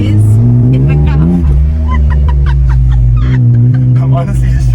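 An engine rumbles loudly and continuously as the project car, newly brought back to life, drives along. Excited voices talk over it throughout.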